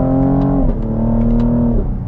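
2021 Cadillac CT5-V Series engine revving as the automatic blips through downshifts, a loud close droning tone that steps up in pitch and holds steady, heard alone.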